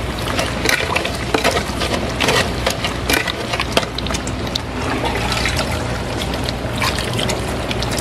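Sugar syrup and water trickle and splash continuously in a workshop where misri sugar candy is made, with a dense, steady wet patter and occasional knocks throughout.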